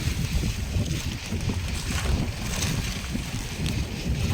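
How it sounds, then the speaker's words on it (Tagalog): Strong monsoon wind buffets the microphone in a steady, roaring rush with low rumbling gusts throughout and no voices, on a fishing outing in the Philippines. "Mahangin pa rin ang habagat."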